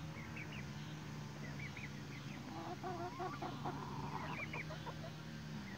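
Hamburg chickens in a pen give low, murmuring clucks and occasional short calls over a steady background hum, quiet and moderately near, with no talking.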